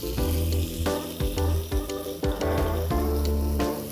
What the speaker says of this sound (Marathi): तर इकडे मी ग्रिल पॅन घेणार आहे आणि त्याच्यावर मी चिकन ग्रिल करणार आहे